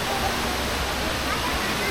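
A secret freshwater waterfall in the Philippines, a steady broadband rush of falling water that stays constant and close throughout, with no other sounds on top.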